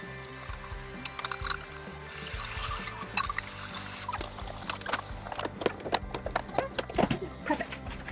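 A fridge shelf is washed under running water, with faint splashing, trickling and squeaky rubbing, close and fairly quiet, ending in sharper wet clatters.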